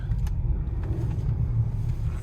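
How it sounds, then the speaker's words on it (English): A 2021 Ford Explorer ST 4WD engine pulls in sport mode, a steady low rumble with faint mechanical whir heard from inside the cabin, no voices. "This is a pretty strong engine."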